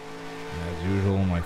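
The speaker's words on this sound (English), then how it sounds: "As usual, my throttle is being really annoying. You can just hear it kind of flickering." A race car engine in NASCAR Racing 2003 with a flickering throttle: a steady, buzzing drone that jumps louder partway through, then wavers and swells unevenly over a second and a half.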